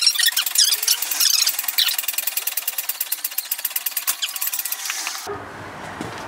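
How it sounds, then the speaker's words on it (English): An impact wrench cracks loose the wheel lug nuts on an Acura CSX, a loud rapid hammering rattle that runs for about five seconds and then cuts off abruptly, close up with no talking. "This thing I'll be always doing is cracking the lug nuts loose."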